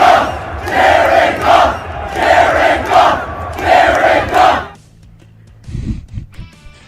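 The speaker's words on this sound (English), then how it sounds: "the crowd, the fans, they were really excited about Jared Goff last night, and they let you know after the game" Football fans in a stadium crowd roar and chant in loud rhythmic waves after an NFL game, then the cheering cuts off abruptly to near quiet with faint scattered sounds.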